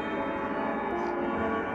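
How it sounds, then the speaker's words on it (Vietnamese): Many grandfather clocks in a shop chime together to strike nine o'clock, a dense, steady ringing wash of overlapping bell tones filling the room at close range. "đây là đang khắc 9 giờ nên là rất là nhiều chiếc đồng hồ cây đang điểm chuông"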